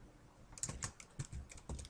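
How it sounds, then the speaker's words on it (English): Quick typing on a computer keyboard, a short run of light clicky keystrokes in an irregular rhythm, close but quiet, with no voices. "I'm going to type in Joe's"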